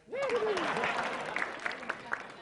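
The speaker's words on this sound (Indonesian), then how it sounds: "terima kasih sekali lagi tepuk tangan untuk yang jelek." A stand-up comedy crowd applauds, with a voice trailing off at the start as a steady wash of clapping fills the room and a few sharper claps pop out near the end.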